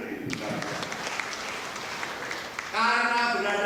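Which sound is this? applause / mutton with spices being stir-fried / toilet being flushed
applause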